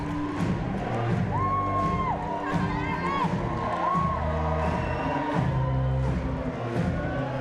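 York fans at a university boxing event stand clapping and cheering as a boxer walks down the stairs to a track, the music and crowd noise blending with shouts and whoops throughout.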